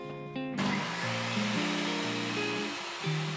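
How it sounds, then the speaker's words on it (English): A power sander working over plywood on a gaming table build, a steady whirring drone with a shifting pitch as pressure changes, loud and close with no talk. "I just need to sand it, and the ply even looks good underneath."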